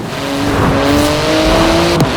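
Porsche GT2 RS engine in Forza Horizon 4, a steady loud drone with rising harmonic tones as the car accelerates, continuous throughout with a brief sharper burst near the end.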